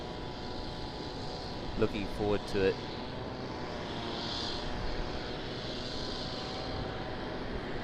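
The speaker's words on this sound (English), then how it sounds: "I do look forward to hearing this departure. The GE90 engines should sound absolutely fantastic." An airliner with GE90 engines departs Sydney Airport, its deep, steady jet roar filling the whole clip at a distance, with someone briefly speaking over it early on.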